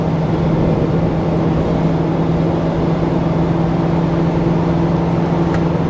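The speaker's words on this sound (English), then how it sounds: "Here's some wide open throttle." Heard from the cab, a 2024 GMC Sierra 2500 AT4X with the Gen 2 L5P diesel pulls a fifth-wheel trailer at full throttle up a grade, giving a steady, dense droning hum with a firm tonal whine throughout.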